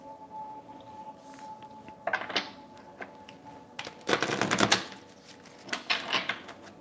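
Tarot cards are shuffled in several quick, crisp bursts of riffling and slapping, separated by short quiet pauses, close by.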